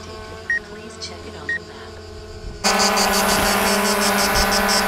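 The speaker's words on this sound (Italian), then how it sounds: "Verifica completata e facciamo decollare il nostro Mavic Air." A few soft beeps, then a DJI Mavic Air quadcopter's propellers spin up abruptly for takeoff into a loud, steady high-pitched whine that continues close by.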